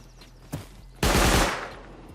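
Gunfire in the video game Rust: a single sharp shot, then a loud, dense burst of rapid automatic fire that rattles and fades out.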